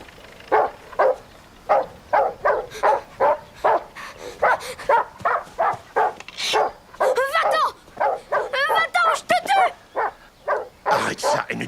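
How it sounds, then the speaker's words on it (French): A dog barks in a long steady series of sharp, close, loud barks, then breaks into higher yelping whimpers and whines before more barking, with people speaking amid the noise. "Ce chien-là, c'est mon chien."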